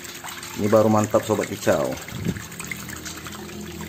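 A homemade trickling water feature built for songbirds such as magpie robins runs steadily as a soft, continuous gurgle, mostly underneath a man's close speech and more exposed once he pauses.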